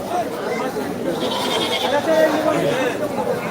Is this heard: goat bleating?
yes